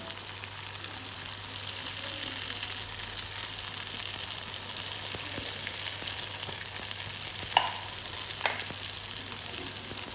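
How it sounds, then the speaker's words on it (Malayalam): Samosas deep-frying in hot oil for a homemade snack, giving a steady, even sizzle and crackle throughout with a couple of brief bubbling pops, no talking. "അപ്പോൾ ഞാനിതിപ്പോൾ അതൊന്ന് പൊരിക്കട്ടെ"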